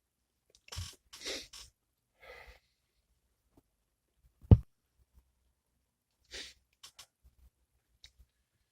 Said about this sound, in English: Had to pause so I could sneeze.